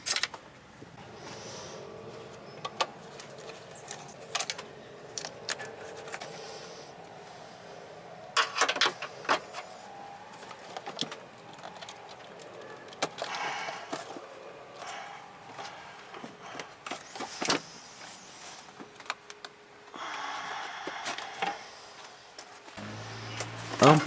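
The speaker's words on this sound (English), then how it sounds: "Remove the air intake hose boot by undoing the 2 clamps and pulling the side hoses away." Clamps loosened and rubber air intake hoses tugged free under the hood of a Jaguar X-Type, a steady stretch of close scraping, rubbing and clicking mechanical handling noises with a few sharper knocks, no voices.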